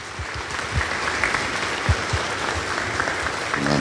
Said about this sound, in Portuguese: Palmas à palavra do Senhor.